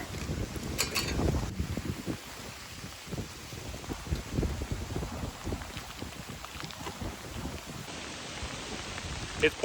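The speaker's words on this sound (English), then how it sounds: "It's pouring." Heavy rain pours down outdoors in a steady, dense hiss, with occasional gusts and soft low thumps in the background.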